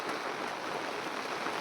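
Floodwater rushes over a road during heavy rain as a brief, steady, loud broadband roar that stays constant throughout.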